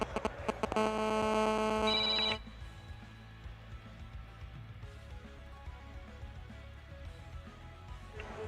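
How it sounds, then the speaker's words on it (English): A mobile phone rings loudly with a bright repeating tone for about two seconds, then cuts off, leaving a quiet room at a dog show with faint background hum and murmur. "Sorry, yung phone ko po yun."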